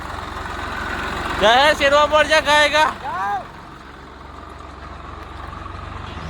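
A tractor engine drones steadily at low pitch on a farm, running continuously underneath a burst of nearby speech before carrying on alone.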